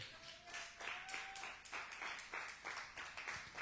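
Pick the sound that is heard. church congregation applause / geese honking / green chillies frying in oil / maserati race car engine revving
church congregation applause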